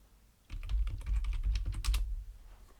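Rapid clattering keystrokes on a computer keyboard, a close, brisk burst of typing lasting about two seconds with no voices.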